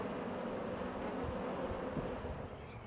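Honey bees buzzing during a beehive inspection, a dense, continuous hum of many insects close by, steady and fairly quiet, with no talking.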